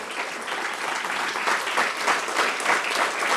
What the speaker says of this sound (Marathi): जरा जोरदार टाळ्यांचा कडकडाट या सगळ्या शेतकरी बांधवांसाठी